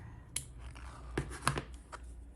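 Scissors snip through crochet yarn at the end of an amigurumi turtle piece, several quiet, crisp cuts spaced apart in a hushed room.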